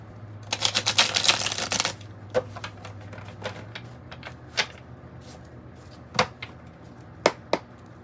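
Tarot deck being shuffled, a dense riffling burst in the first two seconds followed by scattered single card taps and slaps, close and quiet with no talking.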